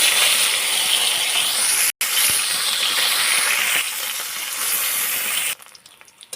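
Live koi fish rubbed with salt and turmeric fry in hot oil in a wok, giving a loud, steady sizzling hiss with one brief cutout. It softens slightly, then drops away near the end, with no voices.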